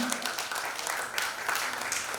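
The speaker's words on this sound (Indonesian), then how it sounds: "Kepada Pak Moko kami berikan tepuk tangan" An audience at a CEO awards event applauds to welcome a speaker, a short burst of dense, fairly loud clapping that stays steady throughout.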